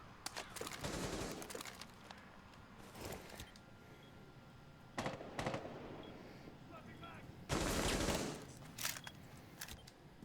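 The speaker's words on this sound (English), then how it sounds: "Trying to make some shotgun holes onto this mirror window" Gunfire in Rainbow Six Siege as a player fires a shotgun at a mirror window, loud blasts in bursts with a heavy volley near the end, separated by quieter gaps.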